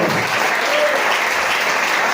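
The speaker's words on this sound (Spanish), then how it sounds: "Dale fuerte esas palmas al Señor." A church congregation claps continuously and densely in praise, a steady wash of many hands close by with no break.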